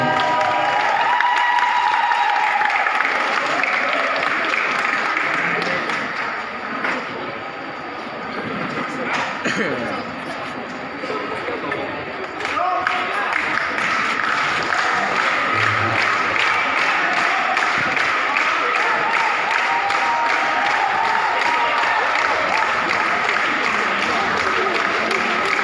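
An audience at a Lao national pétanque tournament prize ceremony applauds loudly and continuously, a dense wash of clapping that dips briefly midway and then swells again, with an announcer's voice over the crowd.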